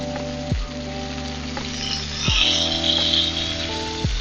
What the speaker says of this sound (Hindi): अब 2 मिनट इस तरफ से पकाते हैं ताकि उधर से हमारा कलर आ जाए